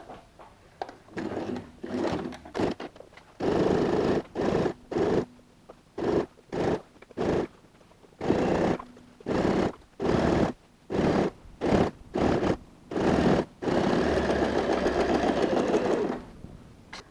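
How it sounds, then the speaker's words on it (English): A sewing machine stitches a quarter-inch seam on a leather handbag in repeated short bursts of rapid needle chatter separated by brief pauses, with two longer continuous runs, close and alone. "this time we're going to go and sew a 1/4 inch stitch"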